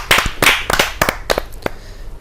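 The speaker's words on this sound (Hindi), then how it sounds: "एक जोरदार ताली से आमंत्रित करते हैं।" Audience clapping at a Hindi poetry gathering welcoming a poet on stage, a short burst of loud, distinct claps in an irregular rhythm that thins out and stops within two seconds.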